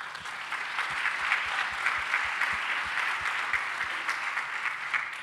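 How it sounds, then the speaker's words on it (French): Audience at a political party council meeting in Québec applauding, a steady, moderately distant wash of clapping that holds evenly throughout. "Oui, on peut applaudir."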